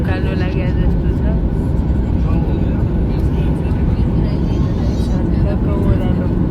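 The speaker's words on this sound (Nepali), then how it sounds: "प्लेन पनि उकालो लाग्यो जस्तो छ।" Cabin noise inside an airliner during its climb over the sea: a loud, constant low engine roar and airflow rumble filling the whole stretch, with faint voices underneath.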